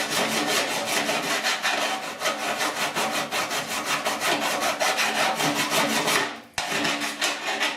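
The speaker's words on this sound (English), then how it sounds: "Yes, I'm going to put the file on it." A hand file is stroked back and forth over the ground edge of a fabricated steel patch on a rusted 1969 C10 core support, in steady rhythmic rasping strokes close up, with one brief pause near the end.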